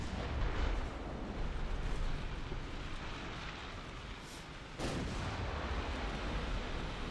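A torpedo hits a light cruiser in Ultimate Admiral Dreadnoughts, a heavy, roaring explosive rumble that fills the clip, with a fresh blast surging in near the end.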